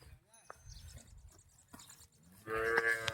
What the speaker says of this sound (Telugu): బ్లాక్ అండ్ వైట్ ప్యాచెస్తో ఉన్న హెచ్ఎఫ్ క్రాస్ ఇది.